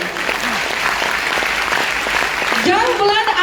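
Sustained crowd applause for the performer Prince ji at a live stage event in Uttar Pradesh, steady and dense throughout with a voice talking over it.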